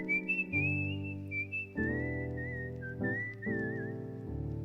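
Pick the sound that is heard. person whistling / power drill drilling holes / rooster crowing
person whistling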